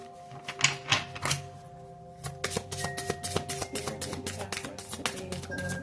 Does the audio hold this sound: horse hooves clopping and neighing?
no